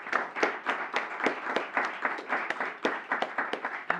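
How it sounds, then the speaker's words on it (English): An audience at a talk on participatory and deliberative democracy applauds a speaker, a steady fairly faint patter of many hands clapping continuously from a distance. "Can we all give a big round of applause for Pravar?"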